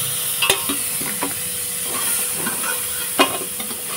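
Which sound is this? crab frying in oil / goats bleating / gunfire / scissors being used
crab frying in oil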